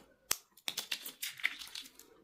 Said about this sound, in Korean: 자, 이렇게 해서 그냥 쭉 잘라줍니다